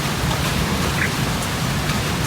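Steady rain falls continuously outdoors, a dense, even hiss of drops hitting surfaces with no gaps, fairly loud and close, with no voices over it.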